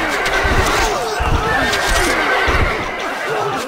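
A horse neighs repeatedly in the medieval strategy game Stronghold Crusader, its whinnies rising over busy battlefield noise and game voices that talk throughout.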